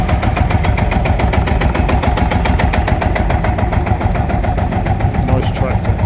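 Early Marshall M tractor at a Newby Hall tractor show, its engine idling in a loud, steady, evenly pulsing chug close by, with crowd noise behind.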